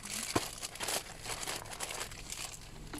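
A small plastic packet is crinkled and handled up close in a shop, a few quick rustles and one sharper crackle, fairly quiet and without speech.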